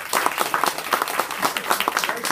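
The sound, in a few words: audience applause at book launch party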